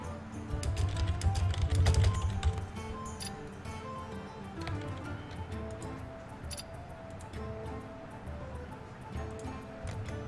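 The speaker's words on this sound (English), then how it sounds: "Very unprofessionally type with my super loud keyboard." Loud computer keyboard typed on at a desk during a Hearthstone stream, rapid irregular clicking and clacking throughout, heaviest in the first few seconds, with faint background sound underneath.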